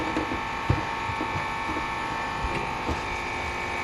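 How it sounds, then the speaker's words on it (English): A small air compressor runs steadily while a travel trailer is winterized, giving a constant buzzing hum with a few light knocks and clicks on top, moderately close, no talking. "in the background you can hear my little air compressor going"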